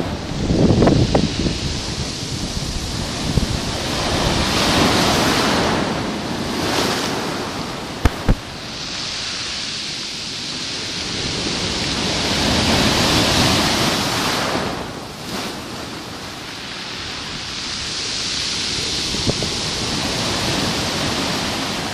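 Ocean surf rolls in as a steady, broad wash of waves, swelling and easing in long surges over continuous hiss, with some wind buffeting the microphone and no voices.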